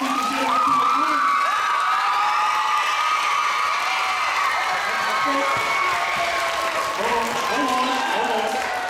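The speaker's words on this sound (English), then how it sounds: "if you give Mr. Harper another big round of applause," A crowd applauds and cheers loudly, with shouts and whoops rising over sustained clapping, children's voices mixed in.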